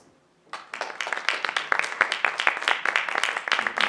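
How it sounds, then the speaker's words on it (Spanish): An audience claps after a lecture at a formal conference, the applause starting abruptly from near silence and continuing as dense, steady, fairly close clapping. "Un fuerte aplauso nuevamente, por favor."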